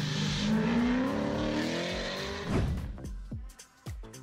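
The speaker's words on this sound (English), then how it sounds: "At higher engine speeds, it begins to imitate the whistle of the turbine." A car exhaust turbo whistle gadget produces a rising whistling tone over engine revving at high engine speed, then the sound drops away into sharp clicks and fades.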